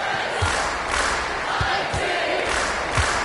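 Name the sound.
crowd buzzing in basketball video game NBA 2K25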